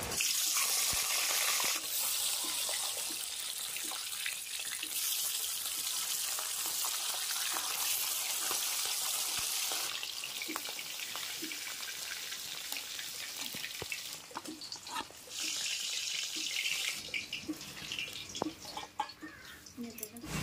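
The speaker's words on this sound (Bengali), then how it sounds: "তেল খুব ভালোভাবে গরম হয়ে গেছে, মাছের মাথাগুলিকে দিয়ে ভেজে নিচ্ছি" Fish heads fry in hot oil in a wok, giving a loud, steady sizzle that stays dense throughout and eases slightly toward the end, with occasional crackles and pops.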